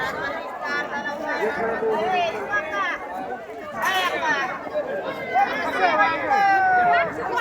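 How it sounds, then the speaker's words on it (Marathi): A weekly Diwali market at Mandavgan Phata bustles with a dense crowd, overlapping chatter and shouted voices of shoppers and vendors filling the air continuously at close range. "मांडवगण फलाटाचा हा आठवडे बाजार असून दिवाळीनिमित्त या ठिकाणी जमलेली गर्दी"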